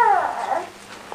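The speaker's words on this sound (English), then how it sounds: "The dog." A dog whimpers with a high, falling whine followed by a brief yip, close and fairly loud, with no talking over it.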